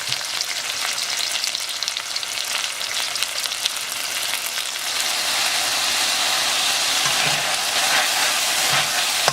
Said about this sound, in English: Well, we just keep stir fry the beef.